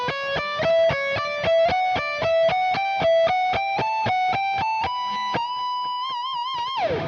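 A distorted electric guitar picks a steady run of notes climbing step by step, ending on a held, wavering note with vibrato.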